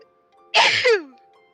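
A single loud, violent sneeze rings out close to the microphone during a podcast recording, a sharp burst that trails off into a breathy tail before quiet returns.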